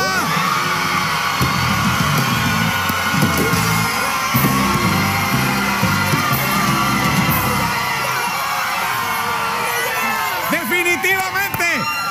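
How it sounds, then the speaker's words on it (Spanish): A studio audience applauds, whoops and cheers for the Aguadilla school on a live variety show, a dense, loud crowd noise sustained throughout with yells and shouts on top. "Aplausos para Aguadilla."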